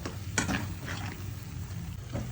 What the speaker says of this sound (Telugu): ఇదంతా ఒకసారి కలిపేస్తాను